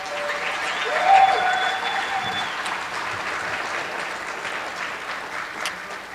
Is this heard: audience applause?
yes